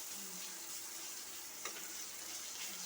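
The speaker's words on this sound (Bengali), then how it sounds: "পেঁয়াজের সঙ্গে গোটা রসুন, পেঁয়াজটাকে একটু লাল করে ভেজে দেবো।" Onion and whole garlic cloves frying for a chicken kosha, a soft, continuous sizzle heard close but at low level, with a faint stirring clink partway through.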